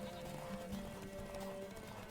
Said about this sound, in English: Oh, the sheep. Oh my god, watch out.